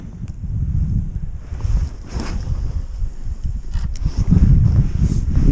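Strong, gusting wind roars across a frozen pike-fishing spot in bitter frost, buffeting the microphone with a deep, continuous rumble that swells and eases without pause.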